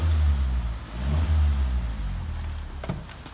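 A car engine runs steadily during a major service, a close, even mid-pitched drone with a slight rise and fall in the middle, heard alone.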